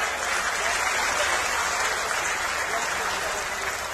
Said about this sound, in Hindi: तालियां बजती रहे जब तक स्वागत